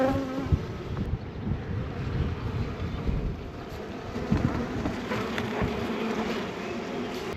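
Honeybee swarm buzzing around a hive box on a homestead, a dense continuous hum of many bees close to the microphone, with some wind noise underneath.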